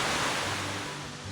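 Steady rushing water from a mountain waterfall in a North Georgia national forest, a broad continuous roar heard from nearby, filling the clip without pause.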